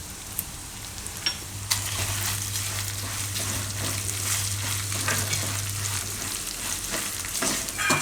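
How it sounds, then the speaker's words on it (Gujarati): Whole spices (cinnamon, cloves, star anise and mace) sizzle in hot oil for a soya nihari, a steady close crackle with scattered pops and a brief stirring clatter, no talking over it. "હવે આમાં આપણે નાખશું આ આખા મસાલા બધાય, તજ, લવિંગ, બાદિયા, જાવિત્રી બધું એમ."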